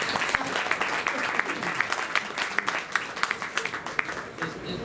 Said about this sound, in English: give him a round of applause if you want